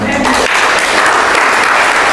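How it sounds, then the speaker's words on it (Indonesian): A church congregation bursts into loud, sustained cheering and applause that fills the room, a dense wash of clapping and voices with no break. "beri sorak-sorai dong"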